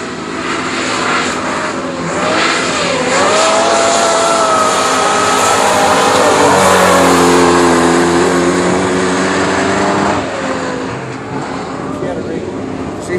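A drag race car launches hard down the track, lifting its front tire, its loud engine roar rising and sweeping in pitch for several seconds, with someone talking over it.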